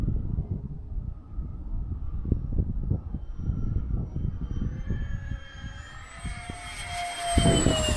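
An E-flite Habu XS 80mm electric ducted-fan RC jet makes a high-speed pass at about 100 mph, its turbine-like whine rising in pitch as it screams closer and loudest near the end, over steady wind rumble.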